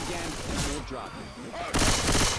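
Rapid gunfire bursts from a Left 4 Dead 2 zombie-shooter match, crackling loudly across the whole moment with a sharper, heavier volley near the end, mixed under game noise and talk.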